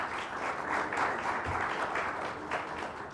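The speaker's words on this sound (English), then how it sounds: "A round of applause for Adnan, please." Audience applause fills a panel discussion launch event in India, a steady, moderately loud wash of many hands clapping throughout with no speech over it.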